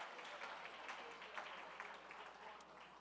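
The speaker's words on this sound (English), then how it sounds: "I think the staff here deserves a round of applause." Audience at a foundation gala dinner applauding the staff, a steady wash of clapping from a crowd in a hall, moderately distant and even throughout.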